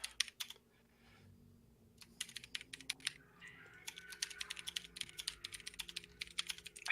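Rapid clacking keystrokes on a computer keyboard come in irregular bursts after a short pause, close but fairly quiet, with faint background music underneath.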